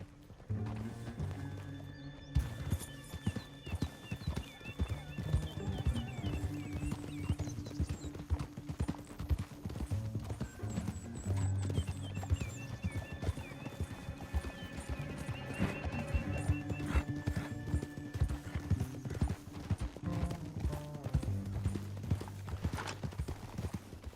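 Horse hooves clop and gallop in rapid, continuous rhythm in the Western video game Red Dead Redemption 2, with occasional neighs and whinnies over a musical score.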